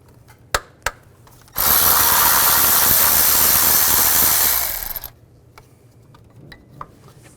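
Ratchet wrench with a 10mm socket working a bolt on the valve cover of a 2005-2015 Nissan Xterra, a few sharp clicks followed by a steady, loud three-second burst of rapid ratcheting that then stops.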